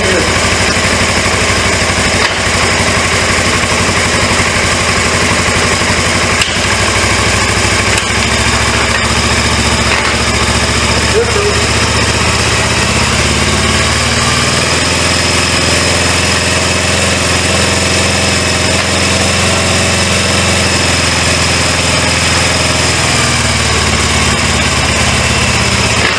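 Engine of a rare 1980s Suzuki GS 450A automatic motorcycle with a noisy transmission, running continuously and loudly up close with a steady buzzing idle and slight shifts in tone.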